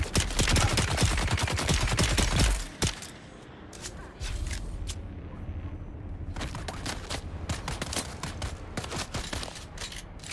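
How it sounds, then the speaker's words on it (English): Rapid video game gunfire, dense automatic bursts crackling for a few seconds, then a lull and more sharp, closely spaced shots, loud and near. "Start shooting."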